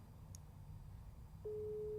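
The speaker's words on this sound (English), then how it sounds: "It's like that long distance tone, you know? Dial tone. Overseas." Partway through, an overseas long-distance telephone line sounds a steady electronic tone that holds unbroken to the end, heard alone over faint background hiss.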